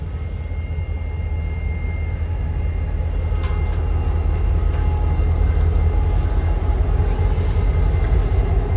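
A heavy Norfolk Southern SD40-2 diesel freight train rumbles past close by, a continuous deep roar with clattering wheels and steady engine drone throughout.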